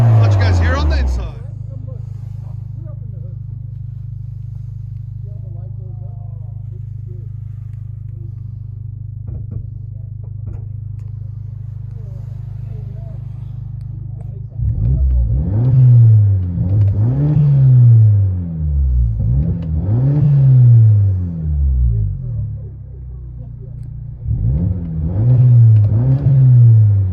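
Cabin view of a 2021 Hyundai Sonata N-Line turbo with muffler delete and K&N air filter: steady drone at idle, then loud repeated revs rising and falling, heard from inside.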